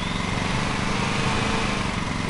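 Lawn mower engine in Lawn Mowing Simulator running at raised throttle, a continuous loud buzzing drone with steady high-pitched whine and no talk.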